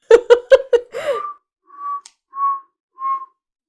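Four short high-pitched whistles, evenly spaced and fairly clear, following a brief burst of hollow knocking or vocal clicks at the start.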